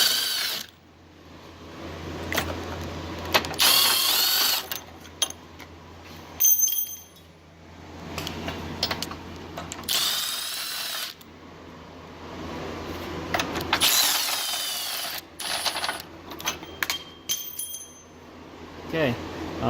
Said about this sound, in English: let's get these subframe bolts out.